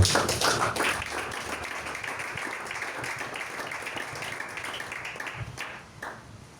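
Church congregation clapping and acclaiming, a dense run of hand claps with a rhythmic pulse that holds steady across the whole stretch, then thins toward the end, moderately loud with faint voices mixed in.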